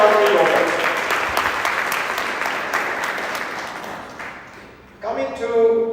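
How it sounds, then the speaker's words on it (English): An audience at a family Chillanga Pooja celebration claps in warm, sustained applause that slowly fades over several seconds before a voice begins speaking near the end. "Can we give a warm round of applause for Srijit and Sridevi for bringing us such a lovely daughter?"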